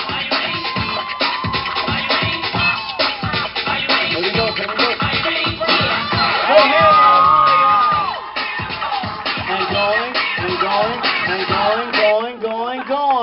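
A street crowd cheers and whoops for New Orleans street dancers, a loud, dense roar of voices and shouts lasting throughout, with a sustained swell of cheering in the middle and scattered clapping.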